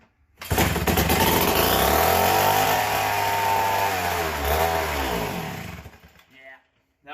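A McCulloch Model 73 two-stroke chainsaw with an air leak fires up and runs loud and close for about six seconds, its engine note rising and wavering, then cuts off abruptly.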